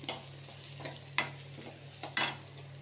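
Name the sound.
garlic frying in oil in a pan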